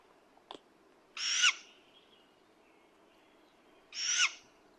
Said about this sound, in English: The occasional screeches from the owlet pushed us along.